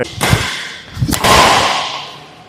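A badminton racket drives a shuttlecock with power, giving a few sharp, loud smacking cracks close by, the last one followed by a fading airy whoosh.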